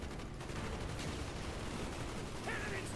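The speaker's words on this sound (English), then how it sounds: "Those are our own mortars!" Dense, continuous battle noise from Call of Duty: Black Ops, with booming mortar impacts and scattered gunfire, a steady roar of combat throughout with no clear speech.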